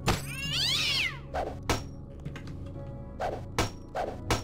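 A cat in the game Deus Ex: Revision lets out a loud, wavering meow, followed by several sharp thuds and whacks spaced irregularly across the moment.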